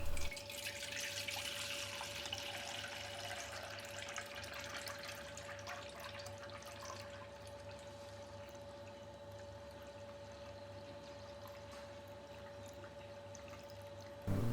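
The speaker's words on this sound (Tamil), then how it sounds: "இப்போ மேலே இருக்கிற இந்த தண்ணியெல்லாம் தனியாக ஒரு பாத்திரத்தில் எடுத்துடலாம்." Sour fermented wheat water is poured off the settled wheat milk into a separate vessel for Tirunelveli wheat halwa, giving a faint, steady trickle and splash with no talk, briefly louder at the end.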